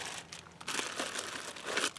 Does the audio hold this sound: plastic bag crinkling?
yes